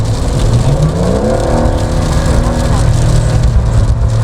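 2025 Porsche 911 GTS exhaust as the engine revs, a loud, close rumble whose pitch climbs and falls and then settles into a steady drone.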